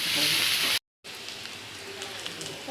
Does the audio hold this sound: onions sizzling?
yes